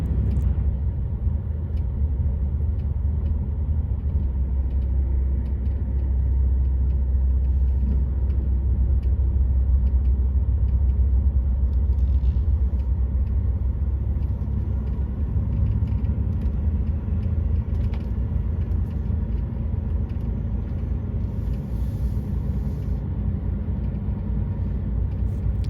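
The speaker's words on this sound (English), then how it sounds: "I'll just drive around again." A car drives slowly around a secure parking area in Niort, France, its low, steady engine rumble and road noise continuing unbroken and fairly close throughout, with no talk.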